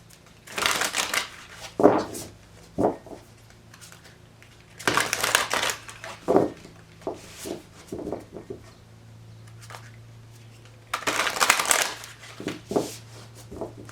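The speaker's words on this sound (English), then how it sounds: "One more shuffle." Oracle cards shuffled in three separate bursts, a crisp riffling rattle each time, with softer taps and handling sounds between, close up.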